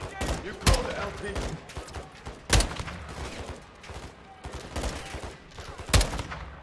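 Enemy shooters in the Modern Warfare 2 campaign fire rapid, rattling gunfire, punctuated by three loud, sharp shots standing out above the steady crackle of battle.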